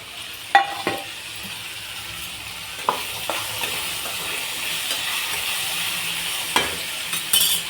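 Steamed mixed vegetables and peas sizzle softly in a pan for veg pulao as a spoon stirs, with a few sharp clinks of metal against the pan.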